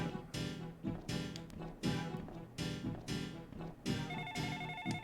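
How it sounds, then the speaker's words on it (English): A fax machine phone in The Ring: Terror's Realm video game rings in a loud, repeating electronic trill, each burst followed by a short gap, with a higher beeping tone joining at the end. "there's the fax machine phone."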